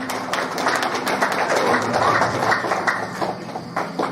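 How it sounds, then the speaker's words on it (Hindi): Audience applause at a felicitation ceremony during a folk culture festival at Shivdwar, a dense, steady patter of many hands clapping close by, continuing without a break. "जोरदार तालियों स्वागत होता है।"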